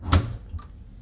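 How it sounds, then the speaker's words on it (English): A washing machine door is pushed shut with one dull thud, followed by a softer click about half a second later, close by with a low hum underneath. "close the door."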